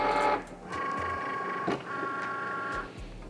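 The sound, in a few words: Cricut cutting machine loading the cutting mat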